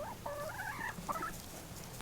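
Hens cluck in a barn as they lay eggs, giving a few short, fairly faint bursts of clucking over quiet background noise.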